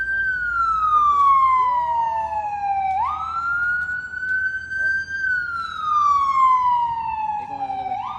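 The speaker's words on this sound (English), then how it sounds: "Hold on, no, we gotta let the ambulance go by." Ambulance siren passing on a road, loud wailing tone sweeping up and down in long cycles with traffic rumble beneath; a voice briefly speaks over it.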